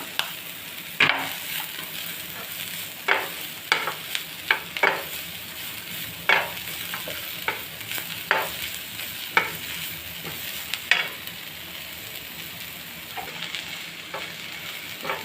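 Sliced carrot and capsicum stir-fry in a hot pan for chicken noodles, a continuous close sizzle broken by regular clacks and scrapes of a spatula tossing the vegetables, with no voices.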